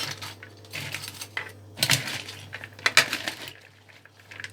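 Purple cabbage pickle mixture is stirred in a bowl, giving faint scattered clinks and scrapes of a utensil against the container over a low steady hum.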